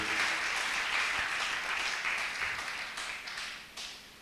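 A church congregation applauds and claps steadily during worship, a broad continuous wash of hands close and loud, thinning slightly toward the end.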